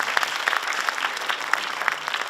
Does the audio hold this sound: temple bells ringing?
no